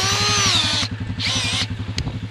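A power drill bores into very wet soil on a trapline, its motor whining steadily over a rapid, rhythmic low chugging. The whine drops off, surges again briefly, then stops, leaving uneven knocking with no voices.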